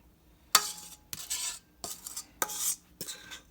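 Thick chocolate stout brownie batter is stirred in a bowl, with five distinct scraping, clinking strokes of a utensil against the bowl in a steady rhythm, close up and alone.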